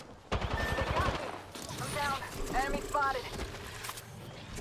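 Rapid 30-30 rifle shots and scattered gunfire in a shooter video game, a quick burst of sharp cracks near the start with more shots under continuous excited chatter from players.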